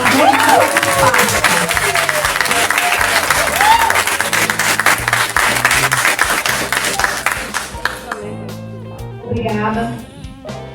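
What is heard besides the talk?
audience applause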